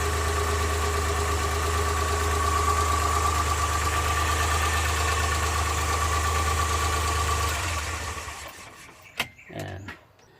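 Suzuki Multicab engine idling under the hood during a vacuum test, a steady close hum with a low rumble and even tone that cuts out near the end, followed by a few clicks and knocks.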